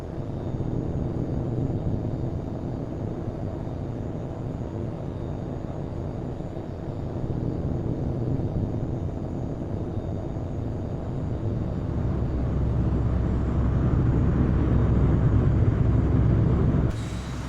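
A fighter jet taking off in Tom Clancy's H.A.W.X 2, a steady loud roar of engine noise that swells and grows heavier toward the end, with no talking.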